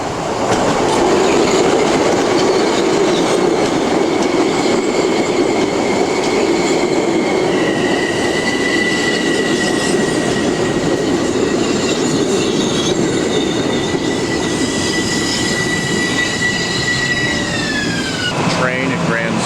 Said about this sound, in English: Train at Grand Central.